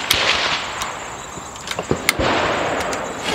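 A .25 caliber air rifle, Kalibrgun Cricket or Kral Jumbo, firing an AVS 36 grain slug outdoors, several sharp cracks and clicks over a steady wind-like background.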